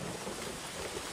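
Heavy rain pours down in a dense, continuous hiss mixed with low thunderstorm rumble, steady and enveloping throughout the short stretch with no voices.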